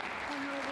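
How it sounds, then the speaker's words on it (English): A snooker crowd at the 2024 German Masters applauds a break by Judd Trump, with steady, dense clapping throughout and a voice talking over it. "Big cheer, quite rightly."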